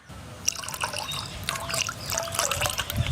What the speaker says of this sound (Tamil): ரோஸ் மில்க் எசன்ஸ் ஊற்றிக்கலாம்.